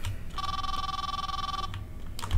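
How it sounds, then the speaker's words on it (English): A telephone rings once inside Fredbear's Diner in a horror video game, a steady electronic trill lasting over a second and fairly prominent, with faint low background rumble and no speech. "Is that a phone?"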